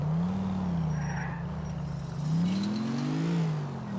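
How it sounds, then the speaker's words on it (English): A deep pickup truck engine in the video game GTA IV rumbles and revs in slow waves, rising and falling in pitch, steady and close with a faint high whine above. "It's supposed to sound like a pickup truck."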